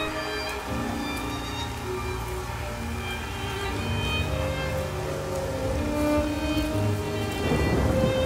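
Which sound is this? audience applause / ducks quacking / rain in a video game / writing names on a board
rain in a video game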